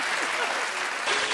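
A television talk-show studio audience claps and cheers in a continuous, full wash of applause, loud and unbroken for the whole short stretch.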